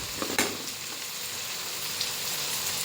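Curry leaves crackle and sizzle in hot oil alongside green chillies and ginger-garlic paste, a dense spitting fry noise with a few sharp pops near the start.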